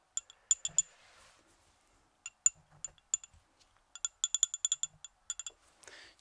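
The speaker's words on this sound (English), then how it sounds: "Chisel that out along with the other side." Steel chisel tapping and clinking on a marble sculpture's jawline, with sharp metallic strikes in quick bursts separated by short quiet gaps, close and fairly soft.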